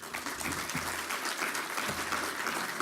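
An audience at a conference on agricultural methanization applauds a speaker, a steady, close wash of clapping that holds throughout.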